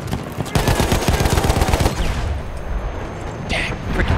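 Rapid machine gun fire in Battlefield 1, likely from an MG 15 or BAR support weapon. It comes as a close, loud, continuous burst of rattling shots that tapers off into rumbling battle noise.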